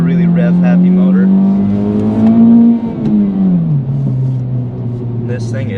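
A 2024 Acura Integra Type-S engine on a racetrack, a loud, close, sustained engine drone whose pitch climbs steadily under acceleration, then drops after a shift and settles into a lower hum, with someone talking over it.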